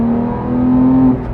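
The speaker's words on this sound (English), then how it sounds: "These cars do have an option where you can open and close the exhaust valves. I'm gonna keep mine open." A 2018 Porsche 911 GT3 with a 4-liter naturally aspirated flat-six and SOUL exhaust, valves open in sport mode, holds a loud, steady close-up engine drone that swells slightly before easing off near the end. No one speaks.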